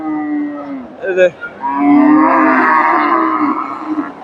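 A large dairy cow at the Dakumara cattle market in Bogura lets out a long, loud, close moo that swells and holds for several seconds after a brief grunt.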